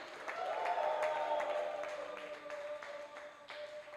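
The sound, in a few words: church congregation applause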